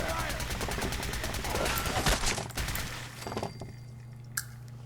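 Gunfire erupts in the video game Fallout 4: rapid, dense bursts of shots at the start that thin out and fade into quieter rattles and a final sharp crack.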